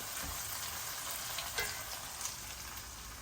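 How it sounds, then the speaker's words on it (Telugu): Onions frying in a pan for brinjal and tomato curry, a steady bright sizzle with a few small pops, fairly quiet and continuous with no talking. "మన ఉల్లిపాయలు మంచిగా ఎగుతున్నాయి కదా"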